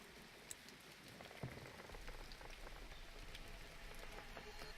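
Gentle rain falls steadily in the video game A Bird Story, a faint, even patter of drops on the ground with a couple of soft louder taps standing out near the start.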